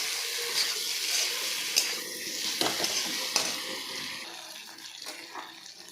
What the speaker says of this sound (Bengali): বেগুনগুলো দেওয়ার পর আমি ভাজবো আরও